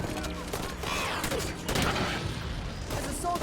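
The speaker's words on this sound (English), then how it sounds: "The Hydra launcher, it's not a very good gun" Hydra launcher weapon fire in the video game Halo 5: Guardians, a rapid series of punchy bursts and booms within busy game audio, fairly close, with a voice talking partly underneath.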